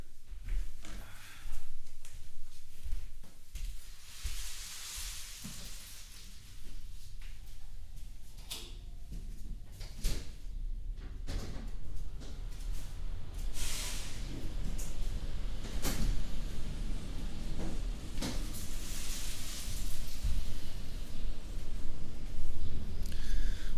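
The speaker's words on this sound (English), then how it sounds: "That's the noise of the street in a Berlin" Street noise from Berlin Mitte drifting in through an open window: a broad, steady wash of city traffic rumble and hiss, broken by occasional knocks and clatters, at moderate loudness with no talking.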